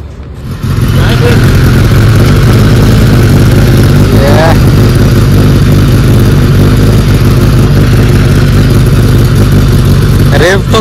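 Kawasaki ZX-10R 1000cc sportbike with an Arrow aftermarket exhaust, idling loud and close with a steady deep rumble that holds throughout, with people talking over it.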